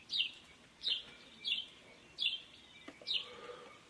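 Cape glossy starlings on a South African game reserve give five sharp, bright calls in a steady rhythm about every 0.7 seconds, moderately close against quiet background hiss.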